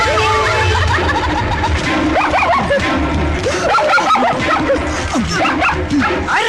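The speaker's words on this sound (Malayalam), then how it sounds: "പോണ പട്ടിയാ?" A dog barks and yips repeatedly with whimpering in between, loud and close in a Malayalam film scene, over a busy, dense background that fills the whole stretch.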